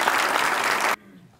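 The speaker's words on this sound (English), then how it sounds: "Give them a round of applause." A crowd applauds at a startup weekend final presentations event in Spokane, a full burst of clapping that cuts off abruptly near the end, leaving quiet room tone.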